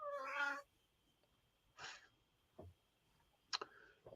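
A displeased house cat lets out a drawn-out meow, then a shorter second call and a few small chirps and clicks, all close and fairly quiet against near silence, with no talking.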